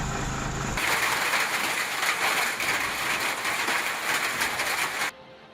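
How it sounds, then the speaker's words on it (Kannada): A hailstorm pours down in a dense, loud roar of hail and rain striking the surface, broadband and steady for about four seconds before it cuts off abruptly. "ಆಲಿಕಲ್ಲು ಮಳೆ ಹೊಡೆತದ ದೃಶ್ಯವೇ ನಂಬಲು ಅಸಾಧ್ಯದಂತಿದೆ"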